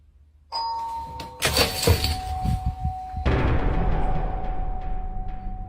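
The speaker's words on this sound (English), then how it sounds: "The doorbell rings 3 times across less than a minute" A doorbell rings with a bright two-tone chime, followed by a second sustained electronic ring over a low background hum.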